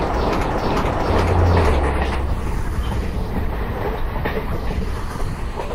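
In an Indian Railway train simulator game on the Aluva to Angamaly route, a train passes a level crossing, a steady, loud rumble with rolling wheel clatter throughout.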